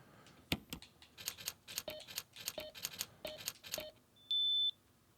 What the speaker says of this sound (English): Is that a good beep? That's a good beep.